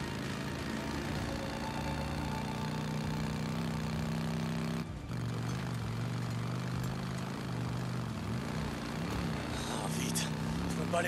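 A large helicopter flies in the video game Days Gone, its steady, droning rotor and engine hum running for the full length beneath a voice, with a brief dip midway.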